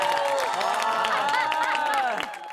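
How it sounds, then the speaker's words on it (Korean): A television studio audience claps and cheers after Kim Jong-min's dance, a dense, steady wash of applause with crowd noise that carries the whole stretch and eases slightly at the end. "지금 김종민 씨 춤 보고 우리가 굉장히 박수 쳐준 김에"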